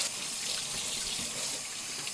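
Tap water runs steadily over pickling vegetables being washed in a sink, a close continuous splashing hiss with no voices.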